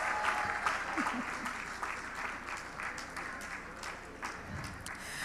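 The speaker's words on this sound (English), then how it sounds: "Please, a round of applause." A journalism education panel audience gives sustained applause for a panelist, a continuous wash of many hands clapping at fairly low level throughout, with a faint voice near the end.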